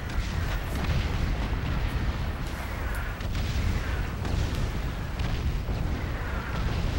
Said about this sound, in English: I'm gonna wait for this bombardment to stop